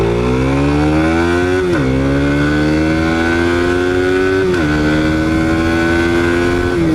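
A Suzuki Satria Pro motorcycle engine revs hard at full throttle on a short, empty stretch of road, its pitch climbing steadily and dropping briefly at two gear shifts. Loud and close.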